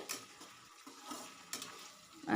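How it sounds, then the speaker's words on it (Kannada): Peanuts roasting in a pan for bitter gourd chutney, a soft dry rustle and crackle with a couple of stirring scrapes, fairly faint and close, with no voices. "ಈಗ ಕಡಲೆ ಬೀಜನ ಹುರಿತಾ ಇದ್ದೀನಿ ಶೇಂಗಾ ಬೀಜನ ಯಾಕಂದರೆ ಹಾಗಲಕಾಯಿ ಚಟ್ನಿ ಮಾಡೋದಕ್ಕೆ"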